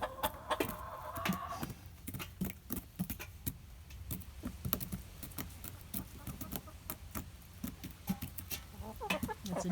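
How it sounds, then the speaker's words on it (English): A flock of chickens in a Halloween-decorated coop clucks and squawks steadily throughout, with many short, overlapping calls over a busy background of scratching and rustling. "this flock of chickens in here anyway"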